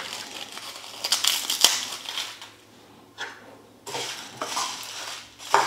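Whole spices such as cumin and fennel dry-roasting in a pan over low heat for garam masala, giving irregular dry rattles, crackles and scraping stirs, with louder clatters near the start and end and no talk.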